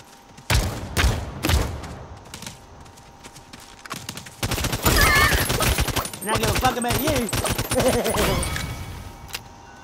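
Rapid bursts of blast rifle gunfire ring out in the video game Realm Royale, sharp close shots in quick clusters mixed with other loud in-game effects.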